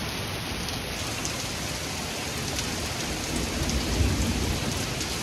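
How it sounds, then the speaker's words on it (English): Heavy rain pounds steadily and loudly during a thunderstorm as a broad, constant wash of noise that swells slightly toward the end, with no voices. "the rain is so pounding so hard, so quickly."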